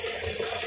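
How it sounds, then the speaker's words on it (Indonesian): Well water pours steadily into a storage drum, a loud, close, continuous rushing gush with no pauses or voices. "Nah, air ini kita tampung di dalam drum"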